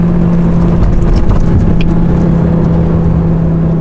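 Lamborghini sports car pulling away and accelerating, a steady loud engine drone with a constant low hum running throughout the clip, no voices.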